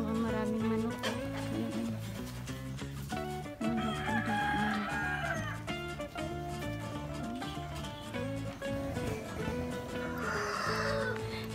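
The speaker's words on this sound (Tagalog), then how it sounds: "Meron dito maraming manok." Roosters crow and hens cluck at a rural roadside in Miagao, Iloilo, their calls layered and repeating continuously over a dense, loud background.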